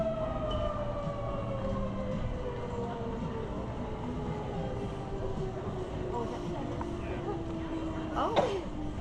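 A wailing siren sweeps up and down at a distance, blended with traffic rumble and people talking nearby.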